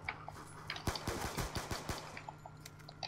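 Rapid pistol shots in the video game Call of Duty: Black Ops 2, a burst of sharp, punchy cracks in quick succession over a low game background hum.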